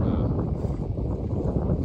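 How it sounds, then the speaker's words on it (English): Loud, close wind buffets the microphone in a constant low roar, with no voices. "Sorry about the wind, you guys."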